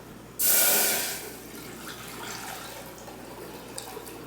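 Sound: water poured into pan of dry-roasted anchovies for broth

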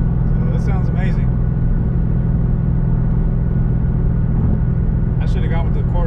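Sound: Ford Mustang GT 5.0 V8 exhaust with Corsa Sport catback

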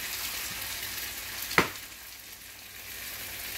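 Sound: whole eggs frying in a skillet

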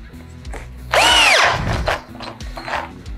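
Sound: wood auger drill bit drilling wood with power drill

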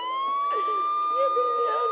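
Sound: ambulance siren

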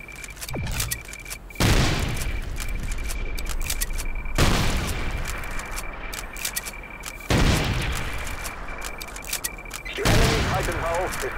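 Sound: bomb strike explosions and gunfire in a video game

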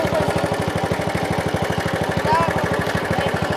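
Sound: newly bought dirt bike engine running

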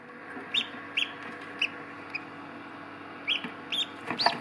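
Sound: newly hatched ducklings peeping

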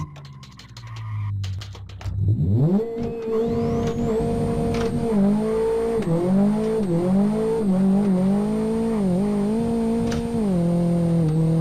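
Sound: handbrake drift tire squeal of a Renault Megane in a racing video game

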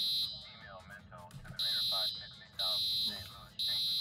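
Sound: fire alarm ringing in Roblox game Maple County

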